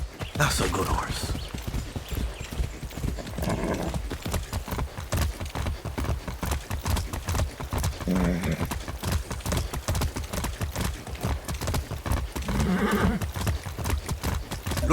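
A horse in the video game Far Cry 6 gallops with fast, loud, continuous hoofbeats, breaking into a few neighs and whinnies along the way.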